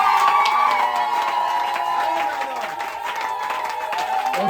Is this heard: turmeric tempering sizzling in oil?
no